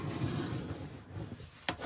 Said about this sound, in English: let's take this score line here and fold this up